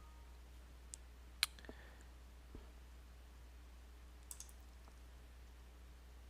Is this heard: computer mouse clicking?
yes